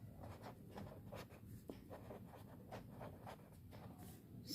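Pen strokes scratching across paper while writing out a wages and salaries entry for a class 11 accounts trial balance, a string of soft, quick scratches repeating steadily, faint and close with no talking.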